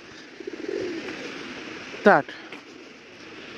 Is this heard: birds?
yes